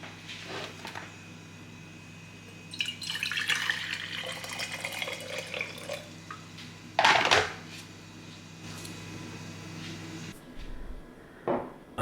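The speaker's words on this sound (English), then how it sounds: "I use Barkeeper's Friend into some boiling water, swish it about for 30 seconds" Small metal hardware from a mid-century piece swished in boiling water with Bar Keepers Friend cleaner, soft intermittent sloshing and splashing with light clinks, quiet and close, with sharper bursts of water near the middle and end.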